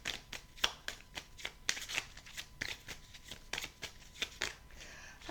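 Oracle cards being shuffled by hand for a card reading, a rapid series of crisp riffling and slapping bursts repeating in an uneven rhythm, close and fairly quiet with no talk over them.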